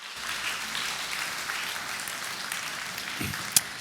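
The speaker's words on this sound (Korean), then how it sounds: "우리 뜨거운 박수로 환영하도록" A church congregation applauds warmly to welcome the pastor to the pulpit. The clapping is steady and dense, heard from within the crowd for several seconds, with one sharp click near the end.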